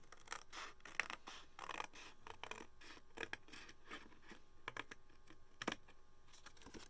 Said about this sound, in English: So I'm going to go ahead and just trim that right now.